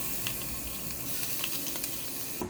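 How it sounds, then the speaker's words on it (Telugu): Blended cucumber chutney tipped into a hot tempering of oil, mustard, cumin, urad dal and red chillies gives a loud, steady, hissing sizzle that cuts off abruptly at the end, with no speech. "మిక్సీ పట్టుకున్న దోసకాయ పచ్చడి వేసేసుకోవాలి"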